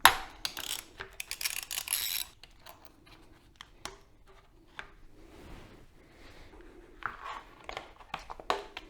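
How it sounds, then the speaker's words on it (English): Ratchet clicking while 5mm bolts are removed from a Yamaha MT-07 motorcycle, with a fast burst of ratcheting at the start, then scattered clicks, metallic taps and handling noises close by. "Now with the plastics off, you can remove this 5mm bolt on both sides."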